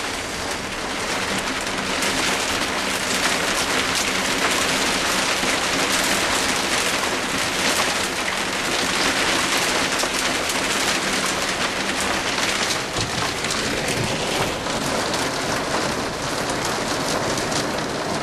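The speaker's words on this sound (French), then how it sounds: "Une grosse pluie, une grosse orage." Heavy thunderstorm rain pours steadily at Cherbourg, France, in a dense, loud hiss, with a low rumble of thunder beneath.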